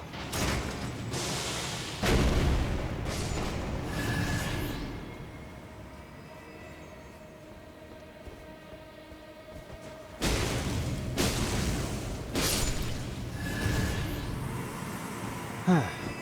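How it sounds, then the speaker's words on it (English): Booming cannon fire in the Elden Ring: Shadow of the Erdtree game, loud thudding blasts around the start and again near ten seconds, with rumbling game noise and a quieter lull between. "We're just getting saved by this cannon at this point, like a few times already."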